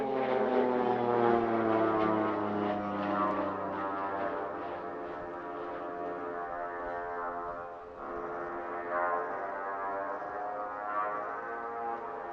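Display team aircraft flying the tunnel manoeuvre at RAF Cosford Air Show 2025, propeller engines droning with falling pitch as they pass, a loud harmonic buzz fading and swelling again.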